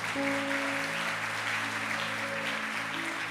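A church congregation applauds in a continuous, moderately distant patter of clapping, with sustained keyboard-like tones ringing softly underneath.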